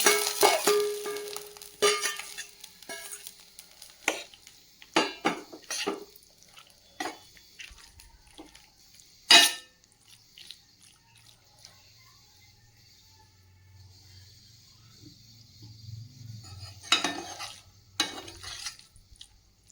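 A spoon scrapes and clinks against a pan while mushrooms are stirred for a mushroom pepper fry, with scattered sharp taps, a faint sizzle and quiet gaps between strokes.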